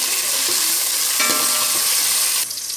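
Onions frying in a pan make a loud, close sizzling hiss with a few stirring clatters, and the sizzle drops away slightly near the end, with no talk.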